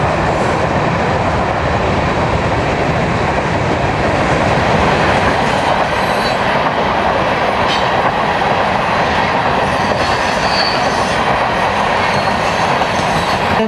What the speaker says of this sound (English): the last bit of the train rolled through the crosswalks